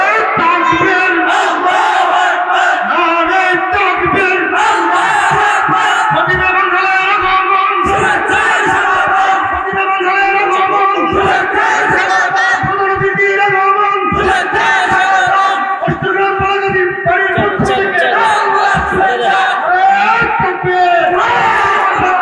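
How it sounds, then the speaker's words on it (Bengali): A large crowd at a religious sermon shouting takbir in loud, repeated unison chants, rising and falling in waves, dense and close, with voices overlapping throughout. "একবার তাকবীর দেন।"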